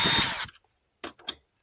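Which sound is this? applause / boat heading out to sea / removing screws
removing screws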